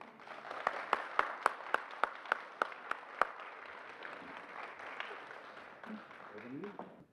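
An audience applauds to welcome a speaker, with a burst of sharp rhythmic claps over a crowd wash that thins out into scattered clapping and murmuring, then a voice at the end.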